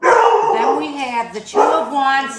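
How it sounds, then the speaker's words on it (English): A pet dog barks and yips in short bursts at close range during an indoor tarot card reading, partly masked by someone speaking steadily over it. "I'm sorry about my dog."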